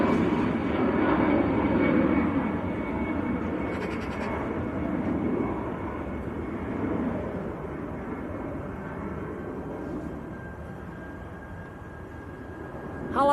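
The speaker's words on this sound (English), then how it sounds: "Lufthansa, just getting airborne. A320 going back to Frankfurt." Lufthansa Airbus A320 climbing away after takeoff at Manchester Airport, bound for Frankfurt, a steady loud jet roar that slowly fades as it recedes.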